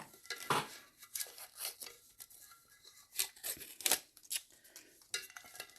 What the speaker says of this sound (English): I'm going to try to use my scissors